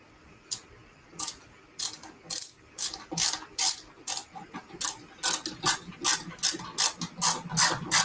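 Screws being driven into an arcade cabinet riser: a power driver whirs in repeated short bursts, about fifteen close, sharp ratcheting pulses at a steady rhythm, with no speech.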